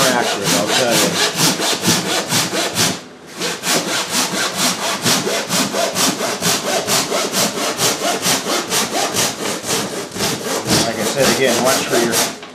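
Power saw cutting wood during a boat build, rapid rhythmic rasping strokes running continuously and close, with one brief pause partway through.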